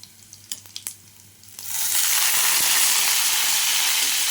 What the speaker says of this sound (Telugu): ఇప్పుడు ఈ సన్నగా కట్ చేసుకున్న వంకాయలు అయితే దాంట్లో వేసేస్తున్నా